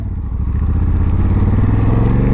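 Honda Africa Twin 1100L 2024 motorcycle ridden on a rough road, with a steady loud engine drone and low pulsing throb running throughout, plus rattle and rumble, no talking.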